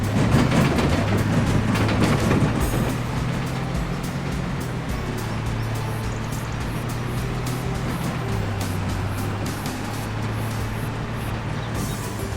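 A vehicle slows to a stop in the Farming Simulator 25 game, its steady low engine drone holding nearly level as a brief air-brake hiss comes through early on, with no talk over it.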